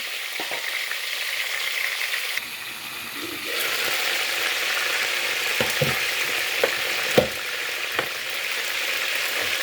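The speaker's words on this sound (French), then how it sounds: "Je vais laisser mijoter quelques minutes pour que ça puisse bien dorer" Chicken pieces browning in a pot for riz lafri give off a steady close sizzle, quieter at first, then fuller, with a few sharp clicks and scrapes of stirring.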